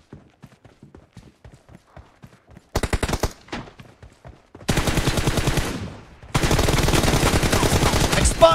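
Rapid bursts of automatic gunfire in the battle-royale shooter PUBG, in a custom one-on-one match, starting with faint ticking, then loud sustained volleys that stop briefly and resume, close and dense, with no talk.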